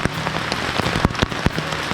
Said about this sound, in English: The rain started up again.